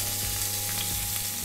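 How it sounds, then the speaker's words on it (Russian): Onion sizzling in oil in a frying pan, a dense steady crackle and hiss with small pops, close and constant. "отправляем на сковороду лук и слегка его подрумяним"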